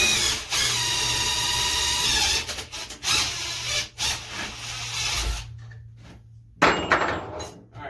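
An impact wrench whirs and grinds loudly up close removing bolts from a Yamaha Virago 1100 motorcycle engine, its pitch wavering as it works, then cuts out, followed by a brief burst and clatter.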